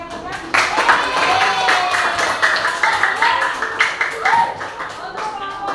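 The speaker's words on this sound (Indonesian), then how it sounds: "yuk kita beri aplaus dulu, tepuk tangan yang kencang." An audience claps loudly at an Indonesian group presentation session, a burst of brisk clapping with a voice speaking over it, the clapping tapering slightly toward the end.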